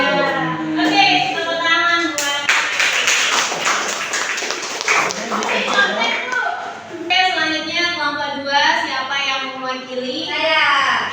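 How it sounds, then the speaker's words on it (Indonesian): Students in an Indonesian micro-teaching classroom clap their hands together in a burst of applause that rises between two stretches of a teacher speaking, the clapping loud and close in the middle of the room. "Oke, tepuk tangan buat"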